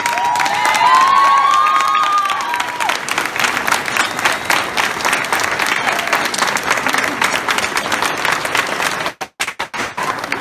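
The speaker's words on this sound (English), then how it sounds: "Give our panelists a round of applause, please." Loud applause and cheering from a college campus debate audience for the panelists, with whoops and shouts riding over steady clapping before it cuts off near the end.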